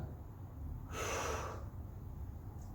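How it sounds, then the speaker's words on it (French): A single breath during an exercise workout, a soft airy exhale swelling for about half a second against quiet background hiss, faint and close. "Je souffle, j'inspire."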